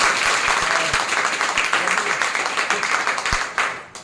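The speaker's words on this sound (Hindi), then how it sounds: "इसीलिए एक बार आई है तो इसके लिए आप लोग जोरदार ताली दे दीजिए" An audience bursts into loud, sustained applause at a gathering honouring a student who passed the Bihar police exam, dense clapping that tapers off near the end.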